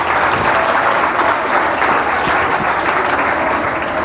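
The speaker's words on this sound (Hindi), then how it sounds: "इनके लिए तालियाँ बजाइए" An audience at a career counselling event claps in sustained, even applause, a loud, dense and continuous patter that stays level from start to finish.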